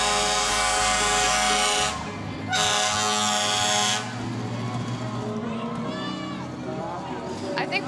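A fire truck at a street parade blasts long, loud horn honks, two sustained blasts separated by a short gap, then a rumbling engine and crowd noise with people talking nearby.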